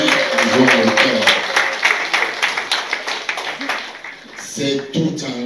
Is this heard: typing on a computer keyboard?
no